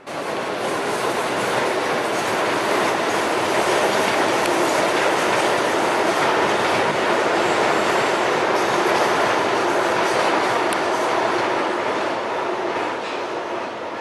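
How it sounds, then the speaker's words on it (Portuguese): A Via Mobilidade C50 train on Line 8 passes near Lapa, heading toward Itapevi, with a loud, steady rumble and clickety-clack of wheels on rail that runs continuously with no voices. "o trem da Via Mobilidade seguindo o sentido Itapevi, é o C50."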